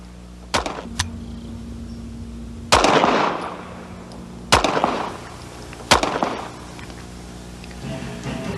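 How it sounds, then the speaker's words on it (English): Four sharp, loud reports from an HK P7 M13 9mm pistol, spaced a second or more apart, each with a short ringing decay, over a steady low hum. "the pistol will fire with each pull of the trigger, just like a single action pistol"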